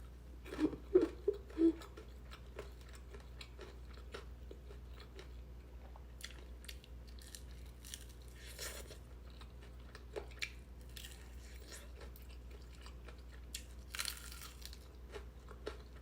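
Someone eating crunchy fried chicken from a countryside chicken shop bites and chews up close, with a cluster of crisp crunches at first, then scattered soft chewing and crinkles over a low steady hum.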